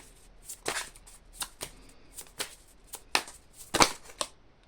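Tarot cards are shuffled and drawn, giving a close series of crisp, irregular papery snaps and flicks with short pauses between them.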